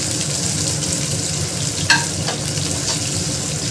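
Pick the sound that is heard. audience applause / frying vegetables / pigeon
frying vegetables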